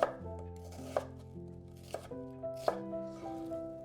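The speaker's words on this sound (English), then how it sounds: "whatever onion you have on hand. Peel and slice for easy sauté." An onion is sliced with a knife on a board, four distinct crisp chops spaced roughly a second apart, close and fairly quiet, with a musical background and no speech.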